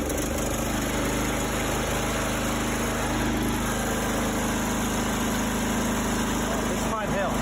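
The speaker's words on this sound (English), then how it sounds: "we built a wood chipper" A homemade wood chipper's engine runs with a steady, loud mechanical drone close by, with a voice speaking over it.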